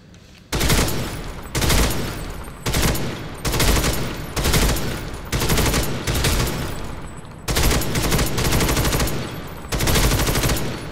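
Machine gun in the shooter game First Assault fires sustained suppressive bursts, loud and close, several long strings of rapid shots separated by brief pauses.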